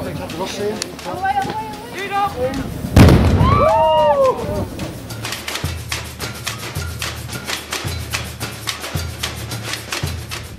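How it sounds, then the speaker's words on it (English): Dynamite blown up near Bolivia's most dangerous road: a heavy blast booms out, followed by rolling crackles and rumble, while people talk and exclaim throughout and a steady mechanical rattle runs underneath. "we get to enjoy the experience of seeing some dynamite being blown up"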